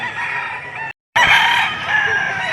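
At a crowded livestock auction market in Padre Garcia, Batangas, a young yellow-legged rooster gives a loud, close crow, a cut of silence follows, then a second strong crow tails off into a long held note.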